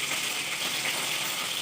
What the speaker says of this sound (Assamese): এইফালে আৰু এইখিনি মাছ ভাজিব আছে